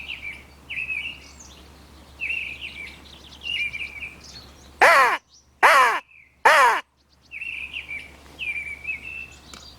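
Three loud, harsh caws ring out close together from a crow, with magpies chattering in quick rattling bursts before and after, over a low steady hum in an open outdoor hunting area.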